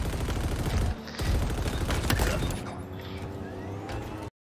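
Rapid gunfire from a Halo Infinite multiplayer match, dense bursts of shots throughout with mechanical clatter, fairly loud and continuous, no one talking.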